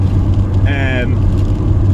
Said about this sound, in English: if I go and accelerate hard from here, if I put the foot down, it'll bog down